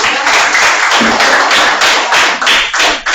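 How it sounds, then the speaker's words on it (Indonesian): Classroom students clap their hands together in loud, fairly rhythmic bursts, close and strong, with a few uneven pauses near the end. "jadi kita tepuk tangan dulu untuk semuanya"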